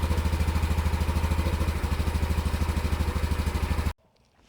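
A Honda Trail 125 motorcycle engine chugs steadily while climbing a hill, its rhythmic single-cylinder thump close and loud before cutting off abruptly into near silence.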